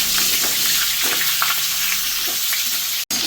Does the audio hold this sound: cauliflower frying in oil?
yes